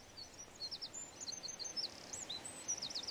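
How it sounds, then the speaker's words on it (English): Bright, rapid bird chirps and twittering calls from the Sega CD strategy game PowerMonger repeat in clusters above a quiet background hum. "Let's listen to the pretty birds,"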